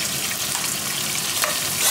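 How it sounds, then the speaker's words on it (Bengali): Prawns frying in a pan with onion, giving a dense, continuous loud sizzle and crackle with a brief sharp stir partway through. "এখন পেঁয়াজটা দিয়েও আমি দু মিনিট পর্যন্ত একটু ভেজে নেব"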